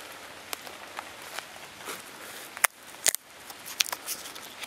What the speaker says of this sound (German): Ja, es ist jetzt halt ein bisschen ungünstig, dass es heute so doll regnet.